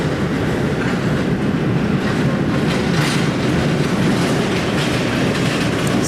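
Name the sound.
cargo pallets rattling at Manchester Airport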